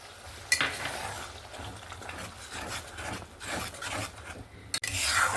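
Poppy seed, tomato and green chili paste stirred into cooking spices in a pan for chanar kofta curry, a steady close scraping and rubbing with faint sizzle, no talk.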